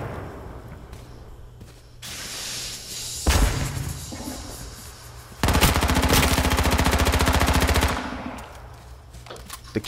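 Automatic gunfire from a weapon in the survival shooter H1Z1, with a short burst near the middle and a longer rapid sustained burst after it, loud and close over quieter game ambience.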